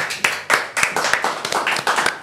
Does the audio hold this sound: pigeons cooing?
no